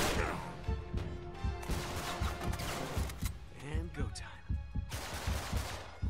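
A newly picked-up gun fires in Uncharted 3, with repeated sharp shots and bursts cracking in a steady rhythm over the game's noise. Voices talk throughout.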